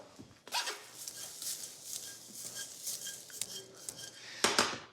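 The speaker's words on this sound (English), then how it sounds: "That's the sound of some great crunch." Crunchy lemon breadcrumbs made from leftover bread are stirred in a pan, giving close, faint scraping crunches and light metallic clinks of a utensil against the pan, with a louder burst near the end.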